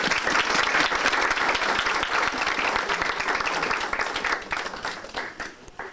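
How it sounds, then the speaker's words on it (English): An audience at a workshop gives a sustained round of applause, dense and full at first, then thinning out toward the end. "Let's give him another round of applause"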